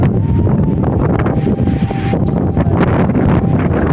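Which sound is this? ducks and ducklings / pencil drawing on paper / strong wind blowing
strong wind blowing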